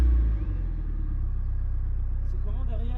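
A Mazda MX-5 NBFL engine rumbles at a steady low idle just after starting, close and continuous, with a voice speaking faintly over it.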